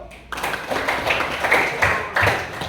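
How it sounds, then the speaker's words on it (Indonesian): Students in a classroom clap together in a rhythmic, patterned beat, starting abruptly and keeping a regular pulse, close and moderately loud with no talking over it. "Tepuk tangan dulu"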